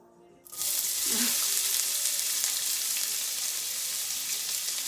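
Chopped onion dropped into hot oil with browned dry spices, bursting at once into a loud, close sizzle that holds steady, with a brief clatter at the start.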